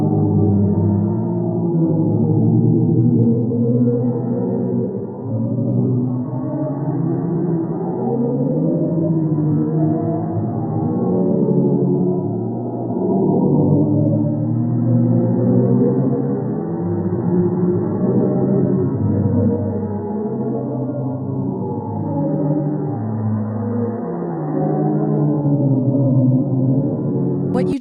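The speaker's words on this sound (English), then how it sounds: "What you just heard was a real sound from space manipulated so we can hear it." Sonified pressure waves from the black hole in the Perseus galaxy cluster, shifted up into hearing range, form eerie layered moaning tones that swell and waver continuously, loud and alone.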